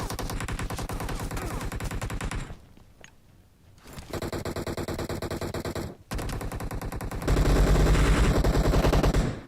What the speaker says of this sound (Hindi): जिस हिसाब से गोलियां चल रही है